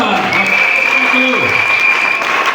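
A church congregation applauding, a dense steady wash of clapping under an amplified voice speaking.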